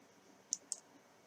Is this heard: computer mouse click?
yes